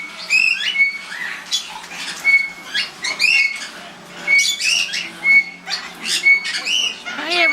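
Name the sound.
pet birds squawking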